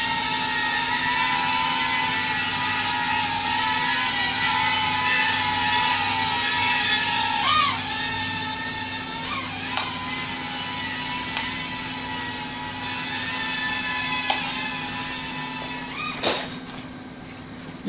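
Propellers of a Voyage Aeronautics RC drone whir in a loud, steady high-pitched buzz during automatic launch, with slight pitch dips and a few clicks as it hovers nearby.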